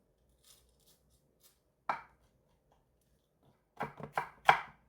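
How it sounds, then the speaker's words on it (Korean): A knife chops a halved cheongyang chili pepper on a board for a Korean chive salad: one crisp chop, a pause, then three quick close cuts near the end in a quiet room. "청양고추 반으로 잘라서"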